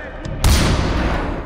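A sudden burst of gunfire in Far Cry 4, loud and sharp, followed by a sustained noisy blast that slowly fades.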